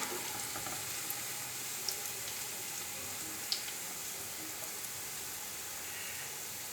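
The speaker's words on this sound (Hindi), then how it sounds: "प्याज फ्राई होना स्टार्ट हो चुका है।" Onions frying in oil for Hyderabadi chicken pulao, a steady, even hiss of sizzling with only faint occasional clicks, close and uninterrupted.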